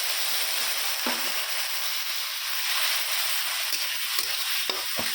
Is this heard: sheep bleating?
no